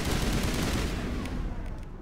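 Sniper rifle fire in Mass Effect 1 Legendary Edition gameplay: a few sharp cracks over a dense, noisy wash of battle sound at moderate level.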